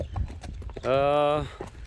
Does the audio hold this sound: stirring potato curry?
no